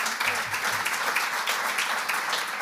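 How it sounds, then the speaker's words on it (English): Warm applause from a conference audience for four panelists at a munition clearance session, dense steady clapping filling the room throughout. "I would like to give a warm round of applause for our four panelists."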